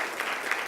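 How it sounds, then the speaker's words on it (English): Brief wash of audience applause for journalists and organizers at an event, steady dense clapping heard alone at moderate level for under a second. "just please applaud for the journalists, but then applaud for Claudia and Tamara"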